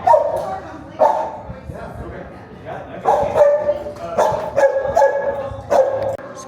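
Dogs bark and yip in a noisy back room of a pet adoption center, repeated sharp barks coming in bursts at close range, with voices mixed in.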